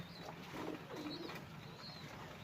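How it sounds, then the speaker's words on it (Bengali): Flying pigeons feeding on paddy grains give soft, low coos over a faint background, quiet and close with no talk. "বাইরের ফ্লাইং কবুতর, তো এদেরকে শুধু ধান খাওয়াইতে দিছি"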